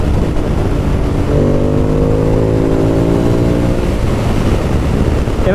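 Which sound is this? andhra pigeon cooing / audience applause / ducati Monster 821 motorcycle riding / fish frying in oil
ducati Monster 821 motorcycle riding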